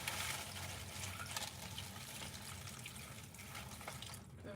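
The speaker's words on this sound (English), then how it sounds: "Let me get the water in here." Water poured into a bowl while making pupusas and tamales, a steady splashing pour that runs alone and fairly close throughout, with no talk.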